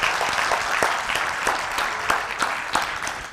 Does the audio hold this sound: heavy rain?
no